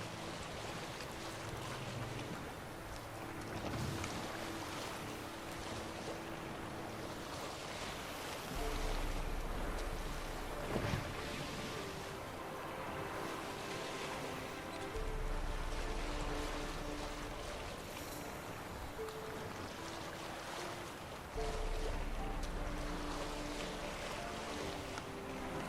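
A small boat sails across water in The Witcher 3, with a continuous rush of water and wind, low rolling swells and occasional creaks and splashes, steady and fairly faint throughout.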